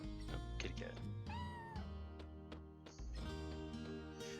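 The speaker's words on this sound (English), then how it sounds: "kitty cat" A cat meows in the video game Chrono Cross, a few short tonal mews over game music, with a person talking around them.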